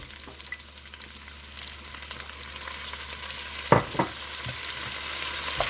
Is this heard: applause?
no